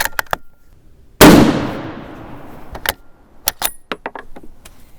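A single loud, sharp report from a 1917 Remington .30-06 rifle at a shooting range, with a long decaying echo, followed by lighter clicks and clatter of handling.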